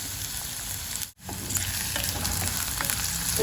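Small onions and curry leaves sauté in a hot pan for a Kerala-style cabbage thoran, a steady close sizzle and crackle with a brief dropout near the start, no voices.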